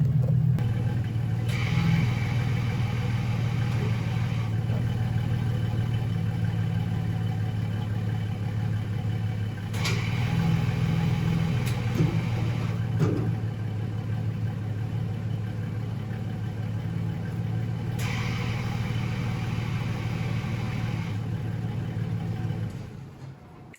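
A 2000 OBS Chevy truck engine runs at a steady low idle, a deep continuous rumble heard from inside the cab, with a few brief clicks and knocks over it and no talking.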